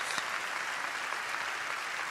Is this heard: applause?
yes